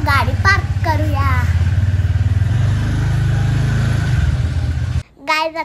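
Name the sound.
car arriving and being parked in a village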